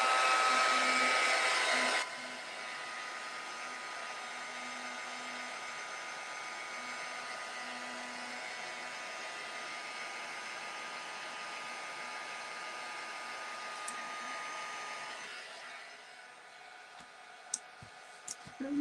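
A hair dryer blows steadily to dry Distress Ink on a scrapbook layout, loud and close for about two seconds, then running lower for most of the clip before fading out, with a few small clicks near the end.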